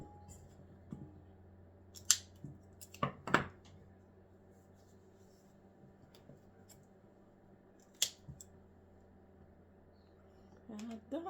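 Grape clusters are snipped apart while appetizers are prepared for a Christmas dinner: a handful of sharp, isolated cutting clicks spaced several seconds apart, close up over a low steady room hum.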